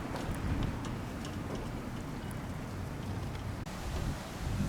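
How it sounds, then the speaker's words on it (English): Outdoor wind rushes and buffets steadily on a snowy day in Blowing Rock, North Carolina, with broadband noise and gusty microphone rumble throughout. "I don't know if you can hear that wind, but it is windy and it's blowing the snow all around"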